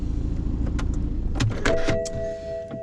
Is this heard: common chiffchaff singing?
no